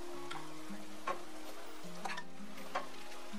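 Boiled dal goes into a pan of sizzling chicken masala for dhaba-style chicken tadka, giving a steady close frying hiss with a few soft stirring scrapes and clicks.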